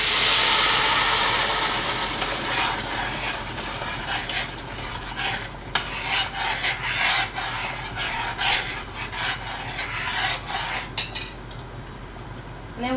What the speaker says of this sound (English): here's the sauce that we put in the blender. We gotta put them in to fry now